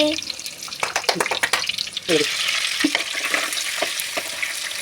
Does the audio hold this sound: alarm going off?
no